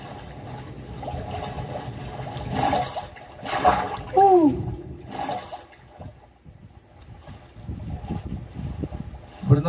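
Splashing and water sounds in Minecraft as a player jumps and swims, with brief watery bursts and gurgles amid game noise and intermittent speech-like sounds.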